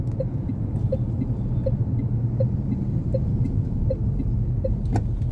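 Mahindra XUV 7XO with a 2-litre mStallion petrol engine accelerating hard at speed, heard as a steady near road and engine rumble with a faint periodic ticking over it.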